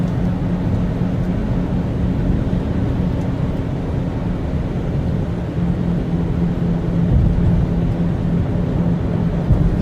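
A Subaru Outback wagon on its original struts cruises at 65 mph near a highway barrier, giving off a steady buzzy drone with a low hum over constant road noise.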